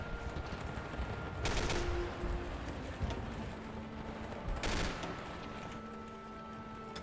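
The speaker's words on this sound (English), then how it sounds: "We're providing shore bombardment." Naval shore bombardment in the strategy video game Hearts of Iron IV gives a steady rumble of distant gunfire, with two louder, sharper bursts of shots standing out over the continuous low battle din.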